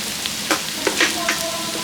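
Sugar hits a hot pan with marinated chicken for a creamy milk curry in a pressure cooker, giving a steady broadband sizzle with a few soft stirring scrapes, close and continuous, no talk.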